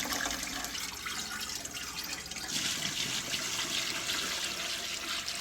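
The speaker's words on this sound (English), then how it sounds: "we'll pour this one into that using the strainer to take out the bones and whatnot" Turkey soup is poured from one large pot through a strainer into another to catch the bones. Liquid splashes and gushes steadily and fairly quietly, getting louder about halfway through, with no talking.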